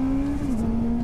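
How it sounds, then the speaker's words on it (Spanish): Honda CB 650R motorcycle pulling hard in first gear, a loud steady engine drone held close with a slight pitch dip midway, no voices over it. "Voy en primera y le voy a dar un jalón"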